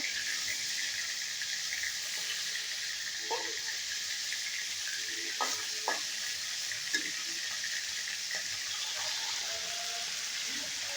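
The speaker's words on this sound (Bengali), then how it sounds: "অন্য পিঠটা ভাজা হয়ে গেছে লাল লাল করে" Rui fish sizzling in hot oil in a pan, a steady bright frying hiss throughout with a few faint clicks and small pops of utensils, close and alone.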